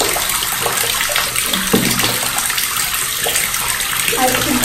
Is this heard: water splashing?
yes